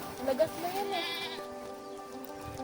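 Goats bleat in a dry-grass farmyard, a few wavering cries clustered early and fading, heard near over steady background noise while people talk.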